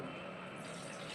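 Mutton cooking water poured into a biryani pot, a steady gentle splashing stream of liquid, close and quiet, running evenly throughout without speech.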